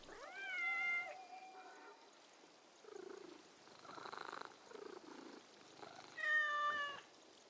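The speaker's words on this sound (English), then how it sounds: "Apparently you can pet cats." A cat meows in Assassin's Creed Mirage, with a few drawn-out, wavering meows at the start and end and softer purring, chirping sounds between them, quiet and close, with no speech.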